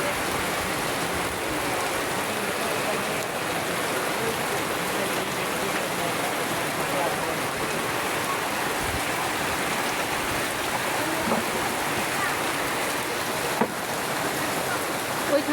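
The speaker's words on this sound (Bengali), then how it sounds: "অনেক জুড়ে নামছে বৃষ্টি" Heavy rain pours steadily into canal-like open water, a dense, continuous hiss of drops striking the surface that stays loud and unbroken throughout.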